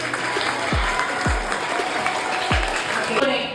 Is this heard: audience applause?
yes